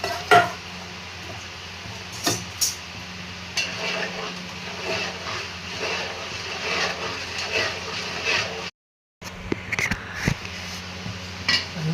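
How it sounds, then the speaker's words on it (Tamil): Rice flour dough being stirred in a pot for kozhukattai, with soft scraping and clinking of the utensil against the metal, steady and close, no talk, broken by a brief silent gap near the end. "நல்லா கிளறிட்டே இருக்கணுங்க. மாவு நல்லா கெட்டியாகும்."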